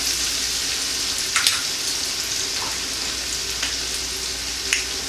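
Food fries in hot oil in a pan, a continuous bright sizzle at close range with a few sharper pops and crackles scattered through it.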